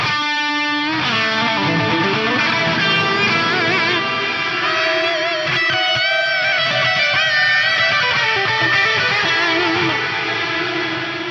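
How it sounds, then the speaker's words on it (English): An electric guitar plays through heavy distortion and a Megatap delay block, sustained chords and lead notes smeared by panning, reverb-like echoes that trail and repeat, loud and continuous throughout. "Let's hear that with some distortion now, because that is such a cool panning, reverby delay thing on there."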